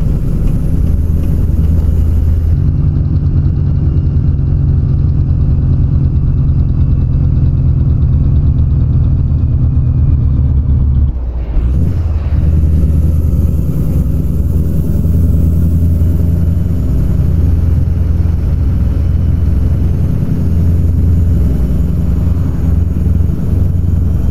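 A Kenworth W900B truck engine from American Truck Simulator rumbles steadily at a low, heavy idle with a deep droning tone, a brief dip midway before carrying on loud and constant.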